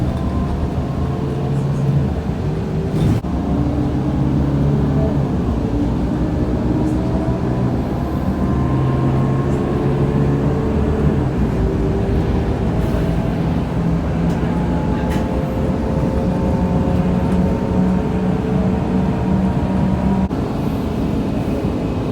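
Riding inside a gas-powered bus in Perth: a continuous engine drone and road rumble, with rising and falling whining tones as the bus speeds up and slows, and occasional faint knocks.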